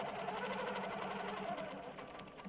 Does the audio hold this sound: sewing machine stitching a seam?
yes